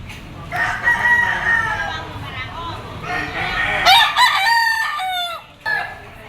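A bull stag rooster crows loudly up close, with clucking and further crowing calls from nearby fowl at a game-fowl farm in Lipa, Batangas.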